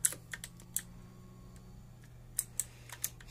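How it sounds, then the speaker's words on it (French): Keys clack on a Battletron mechanical gaming keyboard, sparse sharp clicks in small bursts over a quiet hum, close up and crisp. "un jeu pour tester le clavier"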